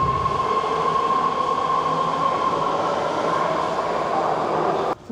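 A BART metro train in the San Francisco Bay Area rumbles along in a steady, loud roar with a sustained high whine riding over it, until the sound cuts off abruptly near the end.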